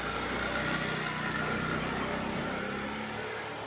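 A car engine fitted with a muffler idles in a steady, continuous drone, close and fairly loud, with no clear speech over it.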